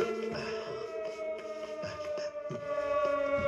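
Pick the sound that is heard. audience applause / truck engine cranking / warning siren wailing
warning siren wailing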